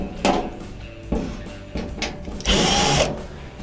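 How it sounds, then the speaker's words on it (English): A power drill backs out two Phillips screws on a Kenmore clothes dryer during a repair, giving short whirring spurts, a few clicks, and one longer loud whir near the end, with no talking. "we have to take out these two Phillips screws."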